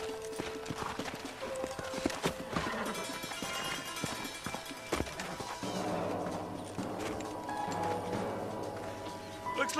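Horse hooves in the Western video game Red Dead Redemption, rhythmic clip-clop of a riding horse mixed with game music and sound effects, with a brief whinny and some voices in the background.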